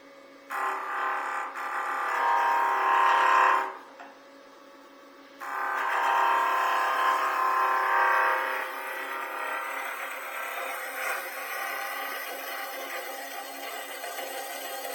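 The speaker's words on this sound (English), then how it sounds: "I know people are afraid of skew chisel" Wood spinning on a lathe and cut with a skew chisel, a steady whining hum that stops briefly and then resumes, continuous and close, with no voices.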